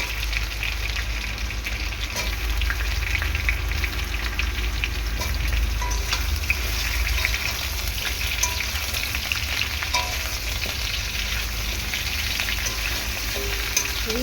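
Green banana pieces fry in oil in a kadai (wok) with a close, constant sizzle and scattered small pops and crackles. The frying continues steadily throughout with no voices.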